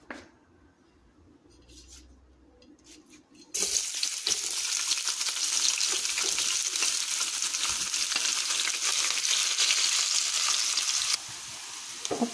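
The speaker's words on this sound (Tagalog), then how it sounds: "lagyan na tayo ng mantika sa ating kawali. So ihulog na natin ang ating sibuyas at bawang" Onion and garlic hit hot cooking oil in a frying pan, bursting into a loud, steady sizzle that carries on without a break after a quieter start, then drops slightly near the end.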